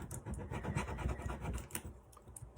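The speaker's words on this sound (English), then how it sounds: "Make sure I get my tool rubbed there into the corner" A tool rubbing raffia into a corner for fall decorating, close and continuous scratchy rubbing strokes in a quick, uneven rhythm, fading slightly toward the end.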